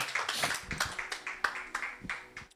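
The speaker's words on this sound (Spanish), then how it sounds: "Denle un aplauso al Señor y póngase de pie en esta tarde." Church congregation clapping in rhythm during a Spanish-language service, a steady run of sharp claps repeating roughly every quarter second, moderately loud and close.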